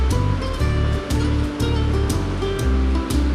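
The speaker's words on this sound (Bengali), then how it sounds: "তেলটা গরম হওয়ার পর পেঁয়াজ কুচি করা ওগুলি দিয়ে দিব, সবগুলি দিয়ে দিচ্ছি" Chopped onions hit hot oil while beef is being cooked, giving a loud, continuous sizzle and hiss close by, with a low rumbling pulse underneath and no voices.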